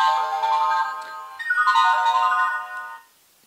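The air generator of a Harry Potter Levitating Challenge board game powers on with a bright electronic start-up jingle of rising and falling tones. The jingle plays loud and alone for about three seconds, then stops.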